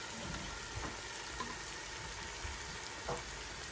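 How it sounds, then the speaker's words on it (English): Steady, soft sizzle of jollof rice frying in a pot, with a few faint clinks and stirs, close by and without any voices. "So that's been frying now."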